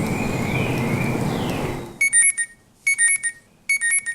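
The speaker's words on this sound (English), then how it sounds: "Her alarm goes off before the sun comes up." An alarm clock goes off before dawn, its bright electronic beeps arriving in three short bursts after a fading wash of noise, close and loud with no talking.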